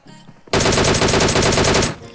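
A loud, sustained burst of DP machine gun fire in a mobile shooter game, a fast steady rattle of shots lasting over a second before cutting off, with no talk over it.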